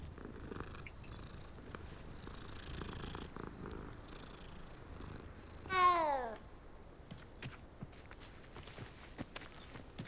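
A cat in a game lets out a single short meow partway through, clear over a quiet bed of ambient sound with faint clicks.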